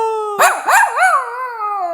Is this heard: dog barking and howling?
yes